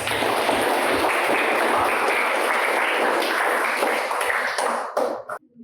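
A classroom of students applauds together, a dense, steady roar of many hands clapping at once, close and loud, then tapering off to a few scattered claps.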